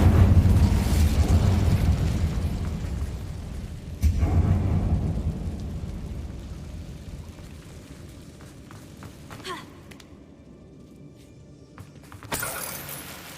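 A fire spell blast in the game Hogwarts Legacy bursts with a heavy, rumbling whoosh at the start, followed by another sharp blast around four seconds and a later flare near the end, with no talking.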